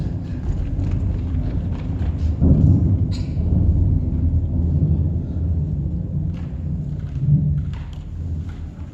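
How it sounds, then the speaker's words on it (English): Thunderstorm rumble rolls low and steady through the whole stretch, with a sharp crack near the start of the fourth second and a few heavier thuds later, nearby and strong. "It was just a storm. It didn't last long, but it was very strong."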